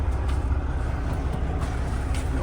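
A 2012 Volvo VNL780 truck with a Cummins ISX 485hp diesel runs close by, a steady, loud low rumble holding constant without a clear start-up surge or any talk.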